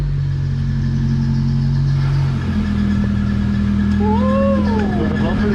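A junkyard Honda Civic idles close by, a steady low engine hum with a droning tone that shifts partway through, then a rising and falling whine near the end; voices talk over it.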